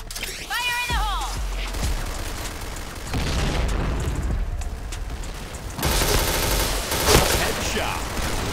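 Point Blank gameplay brings a heavy grenade blast among bursts of gunfire and loud mechanical clatter, with a booming impact late in the sequence and game voice callouts heard along with it.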